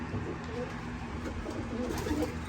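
Racing pigeons in a loft give low, soft repeated coos, faint and steady against a noisy indoor background.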